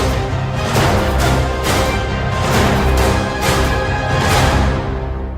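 Lush orchestral music from a pre-built composition template with string patches, orchestral enhancers and light percussion swells in a dense, sustained wash, loud and full, with gentle rhythmic pulses and no voices.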